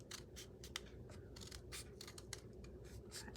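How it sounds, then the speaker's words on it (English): Scissors snip steadily through paper for a tabletop tree craft, giving a quick run of close, crisp cuts with no talking. "we're going to cut down, hold on to the paper tight, turn it, and cut"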